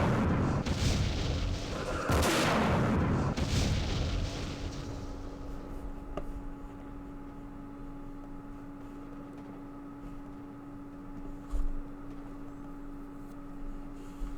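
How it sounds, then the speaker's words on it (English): Anti-aircraft gunfire in the Vietnam war game Campaign Series Vietnam at Dien Bien Phu comes as a heavy burst of booming shots, then fades into a steady low hum, with one brief thump later. "there's an anti-aircraft gun up there too"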